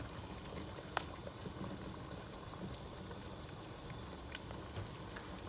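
Breadfruit boiling in a pot of water, a steady faint bubbling and simmering with occasional small pops, continuous and fairly quiet with no talking.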